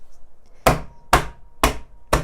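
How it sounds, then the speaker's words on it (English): A kitchen hammer bashes carrot rice ingredients under a closed-over cover, four heavy evenly spaced thuds about half a second apart, loud and close with nothing else heard. "I've got this little, like, you know, kitchen hammer thing here, and I'm just gonna bash them"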